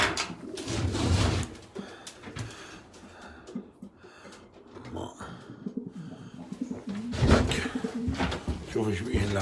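Pigeons cooing in a breeding loft, a steady murmur of soft coos and bird sounds, with occasional louder bursts and some talk mixed in.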